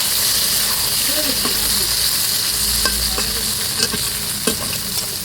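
Eggplant, potato and drumstick fry in hot oil with a steady sizzle and hiss, punctuated by a few scraping clinks of a spoon stirring the pan.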